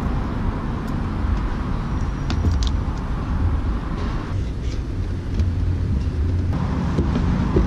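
A BAC Mono sports car drives at a steady, continuous loud rumble with broadband road and engine noise throughout, no voices.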